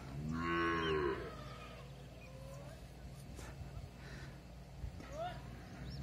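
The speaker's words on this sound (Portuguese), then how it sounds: "Aonde os bezerros beram." Cattle and calves bawl in a corral, led by one loud, drawn-out moo at the start and followed by fainter calls. Steady farm background noise runs throughout.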